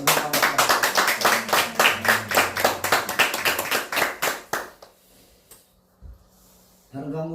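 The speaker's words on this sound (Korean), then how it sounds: "우리 박수 한번 드리겠습니다" A church congregation claps hands together in a dense, rhythmic burst of applause lasting several seconds, then fading into near silence before a brief noise at the end.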